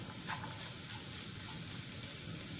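Sugar roasting in a hot pan gives a steady, soft sizzle with faint scraping stir sounds, continuous and close, no voices.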